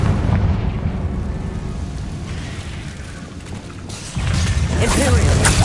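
A Confringo explosion spell from a video game lands as a deep booming blast that swells suddenly into a loud, sustained roar, following rumbling combat noise, with a voice talking over it.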